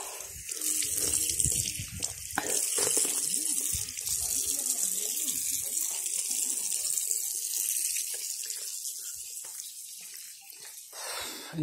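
Drinking water pours from a tap at the Nalanda ruins, a continuous close hiss and splash that varies as the stream is interrupted, lasting several seconds with no talk.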